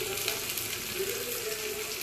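Onions frying in a pan with salt for egg chowmein, a steady close sizzle throughout with no talk.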